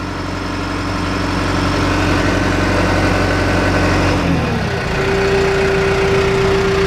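A John Deere 310G backhoe diesel engine idling at minimum speed of about 900 RPM, a loud, steady close rumble with a low hum that drops and settles partway through.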